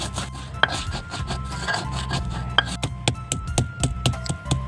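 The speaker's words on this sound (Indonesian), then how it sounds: "Ada lada, ada ketumbar, dan garam. Lalu kita ulek atau haluskan ya," Pepper, coriander and salt are pounded and ground in a mortar for a Betawi stew spice paste. Repeated close knocks and gritty rubbing strokes come in an irregular rhythm, with no talking.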